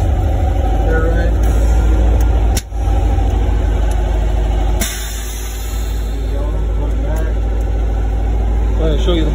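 A 1952 VW split window bus with a 2180 engine on 48 carburetors, idling with a steady low throbbing rumble close by, a short break partway and a lower, smoother idle afterward, with someone talking over it.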